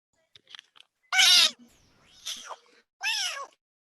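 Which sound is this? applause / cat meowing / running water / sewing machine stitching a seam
cat meowing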